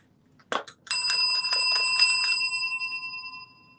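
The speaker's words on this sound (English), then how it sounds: "I'm going to ring the bell for you." A bell rings clearly: a soft knock, then a bright ringing strike repeated about six times in quick rhythm, with the last tone lingering and fading out, close and alone.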